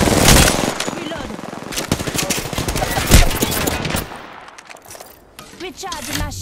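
Automatic weapons fire in the Apex Legends shooter using the R-301 and R-99 guns, rapid loud bursts of shots that thin out toward the end, with a voice speaking in the background.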